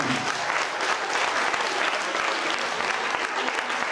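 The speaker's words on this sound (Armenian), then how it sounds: "Ծափարենք այդ երեխաներին" An audience claps steadily for a children's theatre group, dense and loud applause filling the room without a break.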